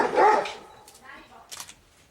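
A dog barks once loudly indoors, followed by a few fainter yips and whimpers in a quiet room.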